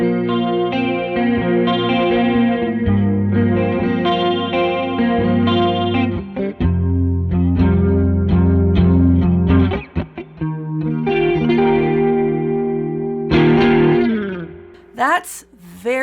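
Electric guitar played through a dual chorus/vibrato pedal, giving lush, washed-out 80s-style shimmering chords and single notes, loud and close, with brief pauses and a few sharp transient hits near the end.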